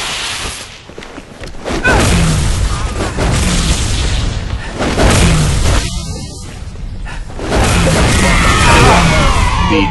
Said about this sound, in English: Detonated.